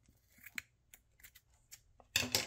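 Scissors snip through material being cut into two paint-screening screens in a craft painting setup, a few short separate cuts and then a louder run of close, rapid snipping at the end.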